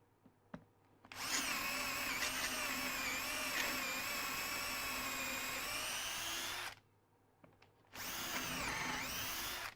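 A power drill boring through wood into a scrap backing board, a loud, close, steady high-pitched whine for several seconds, a brief pause, then the drill starting up again.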